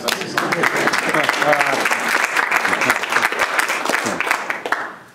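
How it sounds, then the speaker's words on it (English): Audience members at a university keynote break into sustained clapping, a dense crowd round of applause lasting several seconds with some voices mixed in. "Y'all should clap."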